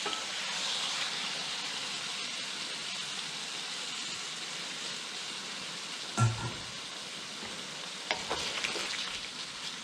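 Excess pork marinade sizzles steadily in a hot pan, a loud, continuous frying hiss with a brief sharp clatter partway through and a few lighter clinks near the end.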